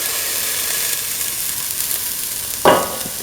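Ground mint is added to a hot pan with a sudden loud sizzling burst over a soft, steady background hiss of frying.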